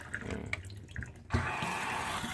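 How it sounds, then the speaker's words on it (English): Water from a sink faucet in a converted school bus runs steadily after a short knock. It is a constant close hiss with nobody speaking over it. "That's the sink running."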